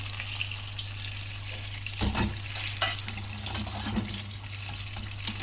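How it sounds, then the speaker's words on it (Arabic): Crispy fried chicken pieces in a dry coating are tipped into a metal strainer, giving a short clattering, rustling burst over a steady background hiss with faint scraping afterward. "سامعين الطبقة ناشفة ازاي او كريسبي ازاي"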